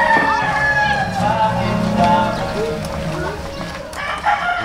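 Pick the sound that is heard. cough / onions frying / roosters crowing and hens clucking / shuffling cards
roosters crowing and hens clucking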